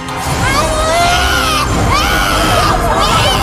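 A woman screams and struggles during a ruqyah session in Jayapura while Quran verses are recited. Her loud, continuous wailing rises and falls across the clip over a dense, noisy crowd background.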